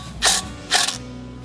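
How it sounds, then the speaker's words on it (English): A wrench ratchets on a bumper bracket during a Scrambler bumper replacement, making two short, close, clicking bursts separated by a brief pause. "I'm gonna try to loosen this bracket behind here and see if we can adjust it."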